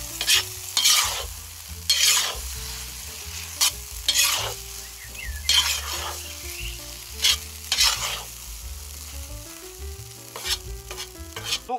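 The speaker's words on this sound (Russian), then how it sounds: "теперь хорошенечко все перемешиваем" Funchoza is stirred in a kazan over a campfire, with repeated scraping strokes of the utensil against the metal over an oily sizzle, loud and close with no talking.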